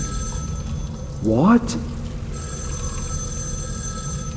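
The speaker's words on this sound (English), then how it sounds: "the phone is ringing." A telephone bell gives one short ring over a quiet room hum, with a brief spoken word close to it.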